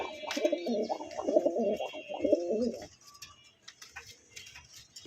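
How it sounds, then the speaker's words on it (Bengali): Danish pigeons of Pakistani bloodline coo in a soft, rolling burst up close, then fall quiet, leaving faint background noise. "অরিজিনাল পাকিস্তানি ব্লাড লাইনের আপনার ড্যানিশ কবুতর"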